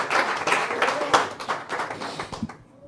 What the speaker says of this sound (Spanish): Dele ese aplauso al Señor Jesús.